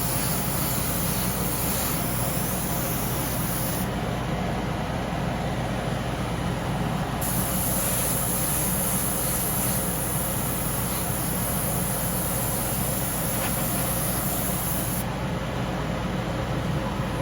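An Iwata airbrush sprays paint onto a scale model, making a constant broadband hiss that runs steadily through the whole stretch, with brief shifts in tone.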